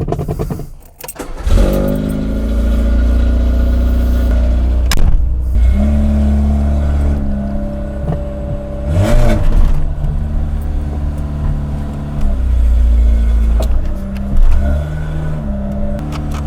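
A car engine catches immediately on starting and settles into a loud, rumbling idle. It revs up several times in swelling bursts and drops back to idle between them.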